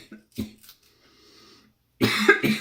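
A person coughs while handling jalapeño peppers: a couple of short coughs, a brief quiet hiss, then a louder burst of harsher coughing and throat clearing, close by.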